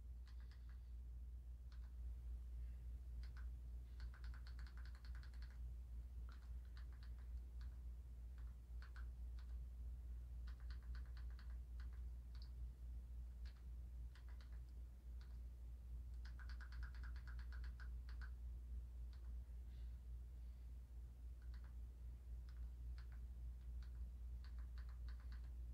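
Keys on a computer keyboard are tapped in irregular bursts with pauses between, quiet and close over a low steady hum.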